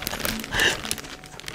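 A Riot Games branded plastic bag crinkles and rustles up close while League of Legends merch is unboxed, in a busy run of crackles with one louder swell in the middle.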